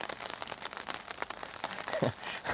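Steady patter of rain falling on a village home in Japan, a soft continuous hiss with scattered drops, growing slightly louder toward the end.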